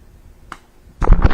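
A foul ball in an American Legion baseball game strikes the crowd microphone, a sharp close thump after a faint earlier tick, followed by a brief burst of loud rumbling impact noise.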